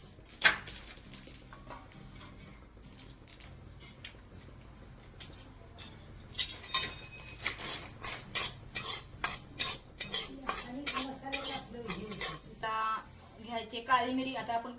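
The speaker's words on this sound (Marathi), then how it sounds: "तर आपण मोहरी भाजायला लागलोय" Mustard seeds dry-roasting in a pan for an onion-garlic chutney, quiet at first, then a rapid run of sharp crackles and pops with scraping stirs, close by.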